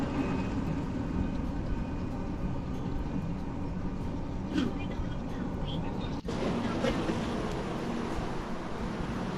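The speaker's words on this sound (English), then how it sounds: "I'm so happy to be on a train right now" Steady rumble of an MRT commuter train riding through Manila, a continuous rolling drone with a brief dropout partway through and faint talk in the background.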